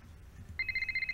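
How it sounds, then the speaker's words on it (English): A telephone rings in the Nancy Drew: Silent Spy video game: a rapid, trilling electronic ring that starts abruptly and repeats in short even pulses over a low background hum. "Oh, phone call."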